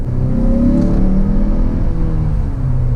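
A 2019 Mazda CX-5 Signature SUV's engine revving in sport mode on premium fuel, a loud steady drone with rising and falling harmonic tones as revs climb, heard close and alone without talk.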